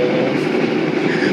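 Loud, steady roar inside a noisy executive-class passenger carriage of the Blambangan Express on the long Jakarta–Banyuwangi run, a continuous rumbling drone with harsh broadband rattle, close and unbroken throughout.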